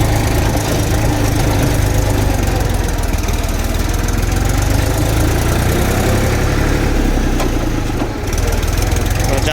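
A tractor engine with a trolley attached runs steadily and loudly throughout, a continuous mid-low rumble with a slight dip near the end, heard close up while driving to the farm.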